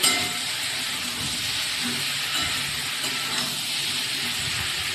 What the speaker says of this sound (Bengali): এইবারে হচ্ছে এই টমেটোটা দিয়ে দিই।